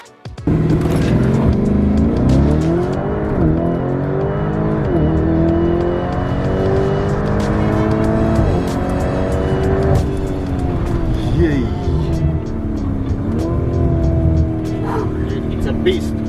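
A Lamborghini sports car's engine revs hard and accelerates through repeated rising and falling sweeps, loud and close, with excited voices talking over it.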